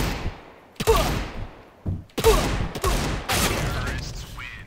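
Gunfire bursts from a video game 1v1 match, several loud sharp volleys and rattling strings of shots that come close together and then stop, with short quiet gaps between.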